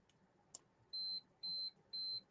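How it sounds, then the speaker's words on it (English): A kitchen timer signals the turkey is done with three evenly spaced electronic beeps, each a steady high tone lasting about a quarter second, clear over a quiet background after a brief click. "That's the timer."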